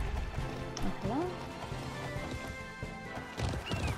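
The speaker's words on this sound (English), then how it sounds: "You are a fast horse." Horse hooves clip-clop in the Alicia Online game, a steady run of hoofbeats with a whinny-like cry and background game music, moderately loud throughout.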